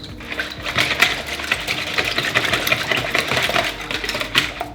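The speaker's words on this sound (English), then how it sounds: "In this large bowl, you're going to whisk together the oil, the milk, and the eggs until they're all combined." Wire whisk beating oil, milk and eggs together in a large bowl for gluten-free doughnut batter, a quick steady clatter of rapid metallic strokes against the bowl, close and continuous with no talking.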